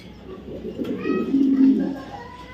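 A pair of BRPFC club racing pigeons coo softly nearby, a low throaty burbling call swelling for about a second before fading.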